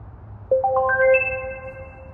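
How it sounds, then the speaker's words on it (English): A Sea-Doo Spark Trixx RTG6 sound system plays its Bluetooth sync tone: a quick rising run of about six bright chime notes that ring on together and fade, heard alone and fairly loud. "you just hit the button and you'll hear it sync"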